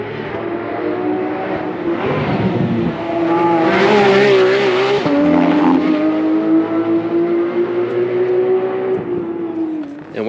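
A Porsche GT3 RS race car on the Nürburgring, its loud engine note rising and holding as it accelerates past close by, with a steady high-revving tone and a slight tire squeal.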